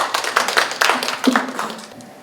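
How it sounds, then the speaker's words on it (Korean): An audience at a financial forum claps to welcome a speaker to the stage, a close, loud patter of many hands that gradually thins and fades over a couple of seconds. "큰 박수로 모시겠습니다"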